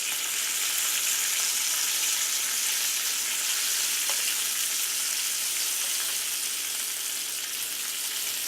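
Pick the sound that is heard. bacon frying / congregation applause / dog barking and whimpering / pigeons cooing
bacon frying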